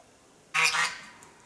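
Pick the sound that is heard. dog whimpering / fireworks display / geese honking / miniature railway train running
geese honking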